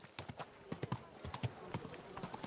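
Horse hooves clip-clop in Kingdom Come Deliverance II, a quiet, steady rhythm of about a dozen hoof strikes at walking pace, close by and with no talk.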